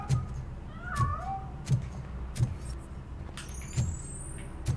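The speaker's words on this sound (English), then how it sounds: "That cat must be hiding inside." A cat meows a few times, a short bent call standing out against steady low traffic-like background noise, with faint rising squeals later on.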